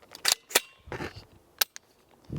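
A few sharp mechanical clicks and metallic snaps from the action of a Q Honey Badger .300 Blackout AR rifle misfiring, spaced irregularly with brief quiet gaps between them.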